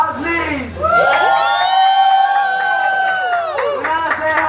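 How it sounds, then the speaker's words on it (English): Diners in a Texas Roadhouse restaurant cheer and whoop for a birthday, a loud sustained crowd roar with high voices and some clapping that swells, holds for a few seconds and fades into chatter. "Can you hear an applause, please?"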